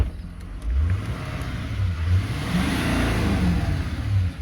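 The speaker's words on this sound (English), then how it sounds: "We'll give it a bit of a rev also and listen to it." A 2012 GMC Denali HD heavy-duty pickup engine revs up and settles back in several close, loud pulses, with a rising whir as the turbo spools, heard with no talking.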